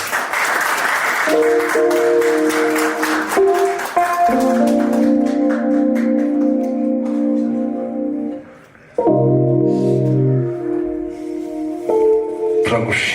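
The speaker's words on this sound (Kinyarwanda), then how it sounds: "bareke dukoma amashyi" A crowd claps steadily for several seconds, with sustained musical tones and a voice carrying over the applause.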